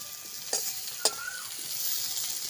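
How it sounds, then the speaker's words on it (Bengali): Potatoes frying in hot oil in a village kitchen, a soft continuous sizzle with two sharp clinks of a utensil against the pan. "সুন্দর করে ভেজে নিয়েছি আলুগুলো"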